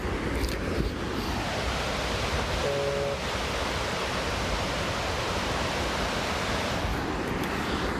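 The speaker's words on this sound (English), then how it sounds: "There's like a waterfall, a small waterfall thing in the river here." A small waterfall in a river sends out a steady, dense rush of falling water, loud and close, with no break across the whole stretch and no voices.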